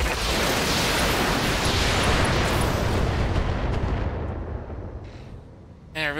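Heavy weapons fire from mechs in the BattleTech video game, a loud sustained roar of overlapping blasts that fades out over several seconds.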